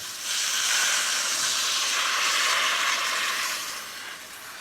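Water poured into a hot stockpot of chopped tomato, sweet carrots and tarragon for a seafood stock, giving a loud, steady steam hiss that swells after a moment and eases off toward the end.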